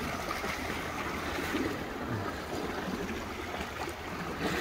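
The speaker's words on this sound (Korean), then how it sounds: "바다 소리 좋네" Sea waves wash steadily over a tidal shore, a continuous broadband surf hiss with soft, rolling swells and no voices.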